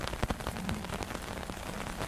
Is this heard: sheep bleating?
no